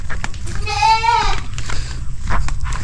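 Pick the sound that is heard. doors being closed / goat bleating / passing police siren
goat bleating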